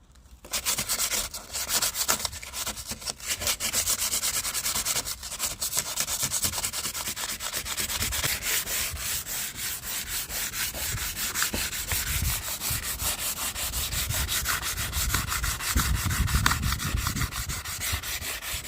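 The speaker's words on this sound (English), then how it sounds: "Right, so the whole splitter is sanded somewhat." Sanding a painted plastic front splitter from a BMW E46 gives a continuous, close, rasping scrub with a steady abrasive texture that runs the whole time, with no voices.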